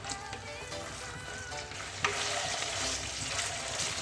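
Steady sizzling of goat or chicken liver (kaleji) frying in hot oil, with occasional stirring scrapes and a sharp clink about halfway through.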